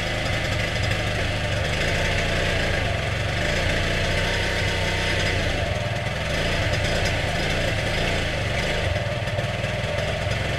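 An Aprilia SR50 50cc scooter engine running steadily just after being started, a close, continuous buzzing idle with a dense, rough tone that holds level throughout, with no talking.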